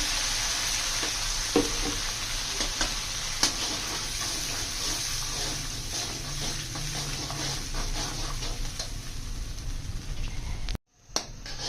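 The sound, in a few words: gravy sizzling while frying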